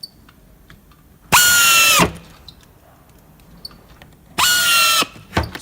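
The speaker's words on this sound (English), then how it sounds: "And then we just screw that with these screws here that you would get supplied." Two separate bursts from a power drill driving supplied screws during furniture assembly, each lasting under a second with a whining pitch that steps up as it spins, loud and close against a quiet room.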